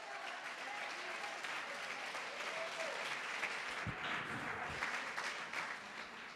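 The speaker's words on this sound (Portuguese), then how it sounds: "É uma salva de palmas ao Senhor." A church congregation applauding the Lord during a sermon, a sustained wash of clapping from many people in a large hall, steady and moderately distant with a faint murmur beneath.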